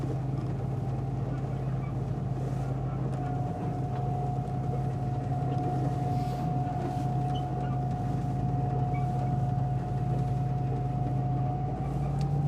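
Candela electric hydrofoil boat cruising over calm water, giving a steady low hum with a constant tonal whine that holds evenly throughout, alongside broadband water and wind rush.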